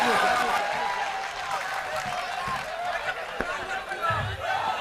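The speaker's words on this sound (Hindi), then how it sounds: "जोरदार तालियों से, जोरदार तालियों से आप इजाजत।" Audience applause at a Hindi-Urdu comic poetry recital fills the room: dense, steady clapping for about five seconds with a faint murmur of the crowd beneath it.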